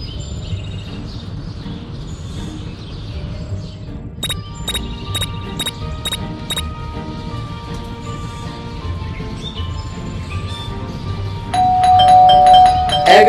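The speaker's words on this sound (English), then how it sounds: "There goes that stupid bell again!" Doorbell in the Scary Teacher video game, several bright electronic chimes in a quick series over a low background hum, followed by a louder cluster of tones toward the end.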